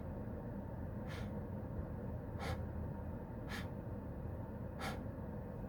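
A man imitates shallow, suppressed breathing with four short, evenly spaced breathy puffs over a steady low background hum.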